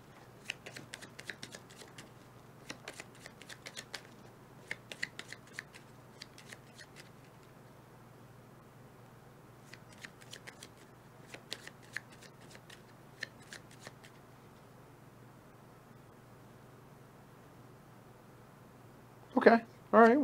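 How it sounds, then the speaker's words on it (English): Cards for the Blight Chronicles board game are riffle-shuffled on a table in several quick crisp bursts separated by pauses, with a quiet steady hum underneath and a louder handling rustle at the end. "now we shuffle up"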